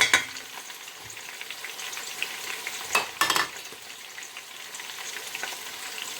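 Garlic frying in hot oil for a Nigerian buka stew, a steady close sizzle with a few sharper crackling bursts and stirring scrapes partway through, no voices.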